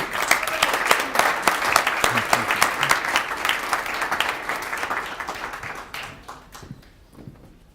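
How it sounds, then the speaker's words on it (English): Audience applause at a 2016 Mayor's Awards ceremony for the award nominees, a dense burst of clapping that holds steady for several seconds and then thins out and fades as the hands stop. "let's give them all a round of applause"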